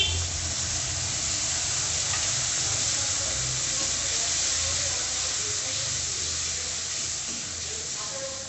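A mixed spice paste hits hot oil in a pan for a koi fish curry, giving a continuous close sizzle and hiss that holds steady throughout without talking.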